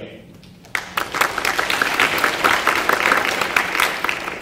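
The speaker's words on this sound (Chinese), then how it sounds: "让我们用最热烈的掌声邀请" An audience at a live talk bursts into applause to welcome a speaker, a full room of hands clapping after a brief quiet start, staying strong and dense to the end.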